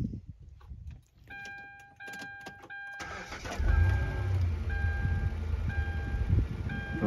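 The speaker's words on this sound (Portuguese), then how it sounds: "Pode ligar o carro, né?" A car's ignition chimes beep steadily while keys rattle, then the engine cranks and catches and settles into a low, steady idle. The chime keeps beeping over the running engine, and the car sits at a driving lesson.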